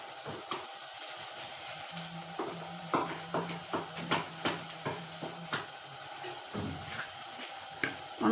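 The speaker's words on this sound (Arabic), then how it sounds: "بعد ما تشحرت ليا البصله ديالي غادي نضيف ليها دابا فلفله" Onion and bell pepper sautéing in a pan, a soft continuous sizzle broken by a series of sharp scraping stirs and clinks of a utensil against the pan, close and fairly quiet.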